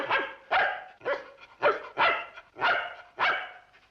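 A dog barks in a steady series of about eight sharp, evenly spaced barks, close and loud, with no talk over them.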